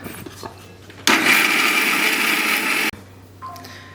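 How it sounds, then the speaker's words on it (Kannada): A mixer grinder blending tamarind with a little water whirs loudly for about two seconds, starting and stopping abruptly, with quieter kitchen noise before and after. "ಇದನ್ನು ಈಗ ಮಿಕ್ಸಿ ಮಾಡ್ಕೋತೀನಿ."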